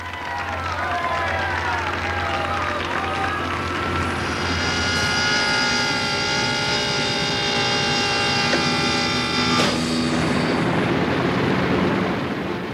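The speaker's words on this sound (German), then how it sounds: "Als sie kurz vor Tagesanbruch abheben, beginnt Keikos Heimreise" Cargo aircraft taking off before dawn, its engines a steady loud roar with rising whine tones that build and hold throughout, with no voices over it.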